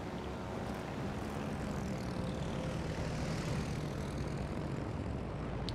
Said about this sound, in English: This is the thing I don't like about the British carrier. Oh my gosh, their torpedo bombers are so slow.